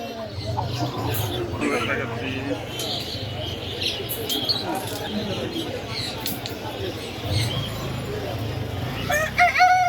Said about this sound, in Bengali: এগুলো কি মুরগি? এগুলো কি মুরগি? ব্রাহ্মা।